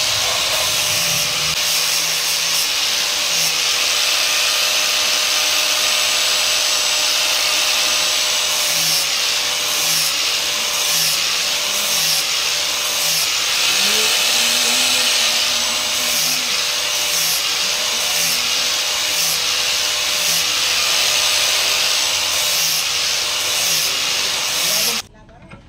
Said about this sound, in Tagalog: gagamitan naman natin ito ng grinder